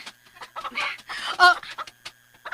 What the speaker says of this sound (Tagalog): ngano man ako mga manok, saba man